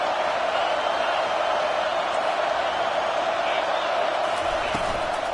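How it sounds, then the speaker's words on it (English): A home crowd roars in a video game American football match, a dense, steady wall of distant noise that holds at an even level throughout without clear breaks. "And how nice is it to have the home crowd going absolutely bananas?"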